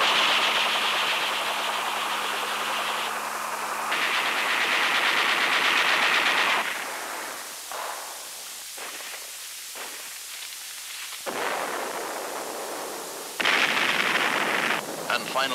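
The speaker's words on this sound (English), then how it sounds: "Navy provides fire support for ground operations." Heavy naval gunfire supporting ground operations in 1960s U.S. military footage, a dense roar of rapid firing and blasts that stops abruptly, then returns in loud bursts separated by quieter gaps.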